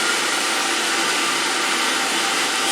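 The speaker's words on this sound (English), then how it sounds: "Air compressor." An air compressor aboard a Great Lakes ore ship held as a museum vessel runs with a continuous loud, broadband whooshing roar, steady throughout and close by.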